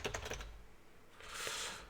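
Quick clacking keystrokes on a computer keyboard, a short rapid burst of typing close to the microphone, followed by a soft hiss.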